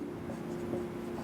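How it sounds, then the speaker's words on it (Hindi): A pen scratches steadily across paper while someone writes out math equations, a faint continuous scribbling close by. "तो यहाँ पर लिखना पड़ेगा"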